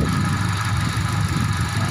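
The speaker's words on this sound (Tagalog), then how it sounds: "Napakatahimik po ng makina. Honda City IDSi." A 2005 Honda City i-DSi with automatic transmission idles quietly, its engine giving a steady low hum with an even, unbroken rhythm, heard close up and alone.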